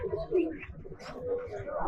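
A Giribaj pigeon coos faintly close by, with low murmuring calls set against quiet room noise while people talk in the background.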